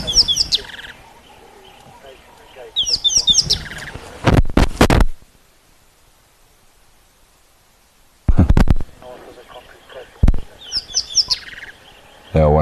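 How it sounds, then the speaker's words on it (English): Rattling cisticola calling on an African safari, repeated bursts of chattering, rattling song from a small bird, clear and fairly near, with quiet gaps and some loud handling or wind thumps between the calls. "Certainly sounds like a rattling cisticola."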